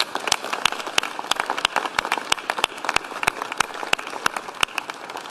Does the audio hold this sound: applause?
yes